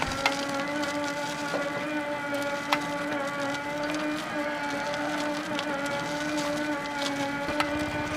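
A homemade electric car styled after 1980s vehicles moves off under throttle, giving a steady humming motor whine with layered tonal drone and occasional faint knocks, continuous and moderately close.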